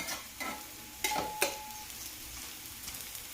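Ghavan batter topped with grated carrot cooking in a pan, with a soft sizzle under a few sharp spatula or utensil clicks and scrapes, close and fairly quiet, no talking.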